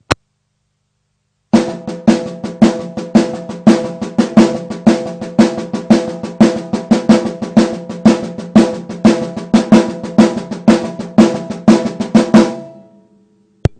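A drum kit plays a fast, continuous run of even sixteenth notes accented in groups of three, with regularly recurring accents, then stops abruptly and rings out.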